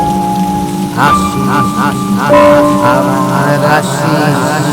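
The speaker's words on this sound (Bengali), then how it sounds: "আকাশ গর্জে উঠল কিছুক্ষণ পর বৃষ্টি নামল" Heavy rain pours steadily throughout a Bengali horror cartoon scene, a dense, continuous patter that swells louder midway, with faint low rumbles of thunder beneath and tonal music or effects layered over it; no clear speech.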